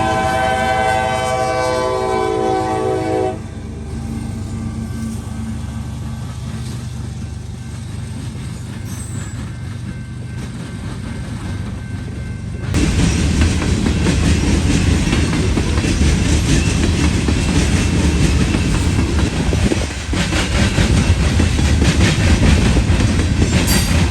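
A CSX freight train passes northbound through Fostoria, Ohio, on the Pemberville subdivision, opening with a loud multi-tone horn, then a low rumble that swells into a heavy, close roar of rolling cars and rhythmic wheel clatter.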